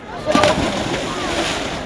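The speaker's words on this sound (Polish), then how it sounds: "I czas na pierwszy w tym sezonie skok do wody." Splash of a body jumping into an outdoor swimming pool, a short burst of water followed by sloshing and lapping, with voices talking over it.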